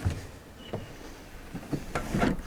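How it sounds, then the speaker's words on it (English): A paint drawer in a contractor's trailer slides open or shut with a few soft scraping thumps and a rattle, fairly close and alone. "And you got your paint drawer."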